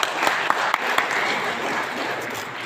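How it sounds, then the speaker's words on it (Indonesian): Crowd applause at an Indonesian regional government gathering, many hands clapping in a steady mid-level wash with a few sharper claps standing out early, no speech over it. "Tepuk tangan dulu."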